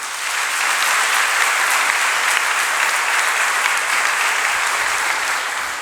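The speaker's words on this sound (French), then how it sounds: "et que je vous demande d'applaudir d'ailleurs" Sustained audience applause welcoming guest speakers at a French-language conference on Catholic marriage nullity, a dense, steady wash of many clapping hands holding evenly for several seconds with no talking over it.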